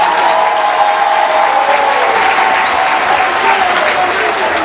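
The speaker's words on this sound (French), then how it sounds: "applaudissez pour vous-même" A crowd at a 2016 presidential campaign rally in Franceville claps steadily and densely throughout, with faint high whistles or cheers rising above the continuous applause.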